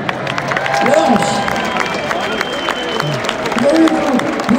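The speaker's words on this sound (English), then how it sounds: "Give yourselves a round of applause, why don't you now?" Stadium concert crowd at a show in Copenhagen's Telia Parken applauding and cheering, a large roaring mass of claps and shouts with voices rising over it.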